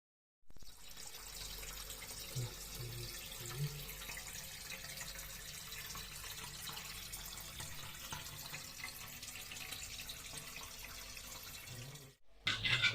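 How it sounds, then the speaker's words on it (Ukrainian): Water pours steadily from a tap into a 450-litre planted aquarium, a constant soft rushing fill that runs without pause and stops near the end. "А доки акваріум продовжує набиратися водою"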